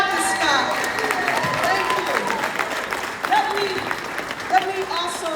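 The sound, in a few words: audience applause and cheering for Dr. Scott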